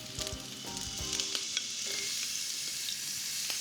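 Fennel and onion fry in olive oil as a base for octopus, a steady soft sizzle with a few crackles and light knocks near the start, held evenly throughout.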